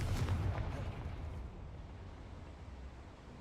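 Confringo fire-blast spell in Hogwarts Legacy bursts at the start with a loud, deep explosive boom, then trails off into a sustained low rumble and crackling wash that fades slowly.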